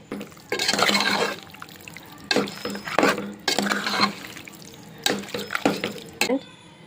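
Salt being stirred into mutton curry in a pot, with several bursts of wet scraping and sloshing separated by short quieter gaps, close and without talking.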